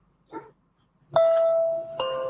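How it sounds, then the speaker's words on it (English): At a home in Yulee, a doorbell chimes two clear tones about a second apart, each ringing on and fading slowly, after a brief faint sound in an otherwise quiet night. "When the doorbell rang at Deborah Crosby's Yulee home Saturday night"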